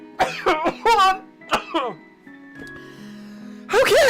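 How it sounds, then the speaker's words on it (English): A person coughs several times in quick harsh bursts and clears their throat, close to the mic, then a strained voice follows. "I think I've finally recovered from coughing up my lung and the waters."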